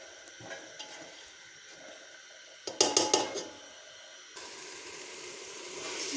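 Mixed moong and masoor dal roasting in a pan of oil-released masala, with a few close metallic clinks of a spoon against the pot over a soft steady sizzle that grows more constant toward the end.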